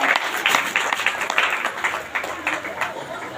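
A church congregation bursts into applause, a dense run of many hands clapping in uneven bursts, close and fairly loud, with a murmur of voices underneath.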